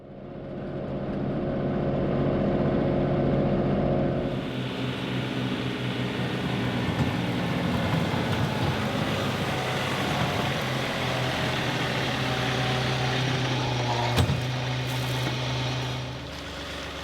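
A tractor engine hums steadily close by with a low drone, joined by a whirring loader-mounted salt spreader and faint grinding throughout.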